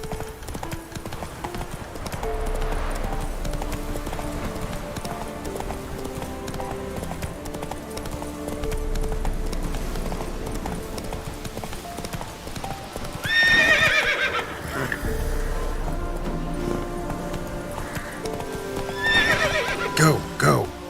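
Roach, the horse in The Witcher 3, gallops with continuous loud hoofbeats and lets out two sharp neighs near the end, over game ambience.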